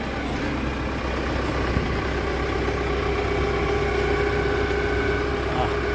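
The four-cylinder, 75 hp engine of a new JGM wheeled log grab loader idles with a steady, even low rumble throughout, close and unchanging.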